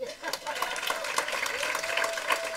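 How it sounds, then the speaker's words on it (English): A comedy club crowd claps along at a stand-up show, a steady mid-level wash of applause lasting a couple of seconds with no voices on top. "Clap it up, man."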